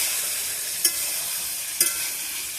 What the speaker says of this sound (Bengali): তো চিকেনগুলো এদিকে ভেজে নেব।